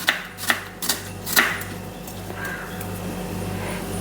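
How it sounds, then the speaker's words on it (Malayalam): Knife chopping onion thinly on a board for an okra curry, a few sharp close taps early on, then quieter scraping with kitchen hum underneath. "കനം കുറച്ചിട്ട് ഇങ്ങനെ നുറുക്കുക."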